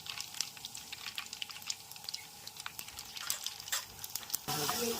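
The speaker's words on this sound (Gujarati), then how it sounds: "વઘાર ચાલુ થઈ ગયો જીરાનો" Soft crackling sizzle of cumin and mustard seeds tempering in hot oil, with scattered sharp pops close by.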